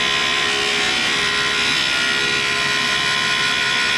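A tool and cutter grinder cuts through about an inch of carbide, a steady, loud, continuous grinding roar with a harsh hiss that holds even for the whole stretch, no talking.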